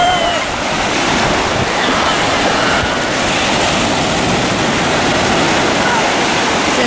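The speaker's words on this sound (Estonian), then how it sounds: "See on siis see soolane vesi ookeani kaldal." Ocean surf on a beach in the Algarve, Portugal, rolls in as a loud, continuous roar of breaking waves and wash, with wind buffeting the microphone throughout.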